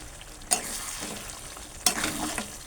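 Green chilies dropped into hot oil sizzle in a pan while chicken is cooked, with two sharp bursts of frying as they hit, then a steady soft crackle and stirring, fairly quiet.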